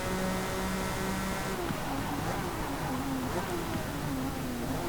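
A turbocharged V12 in a mid-engine car roars in Forza Motorsport, a loud continuous engine drone that climbs in pitch and drops at the gear changes.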